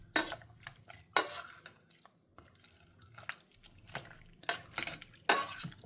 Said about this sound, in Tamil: இதை நான் மசிச்சு எடுத்துட்டுறேன்